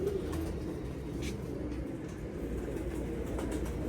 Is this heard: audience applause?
no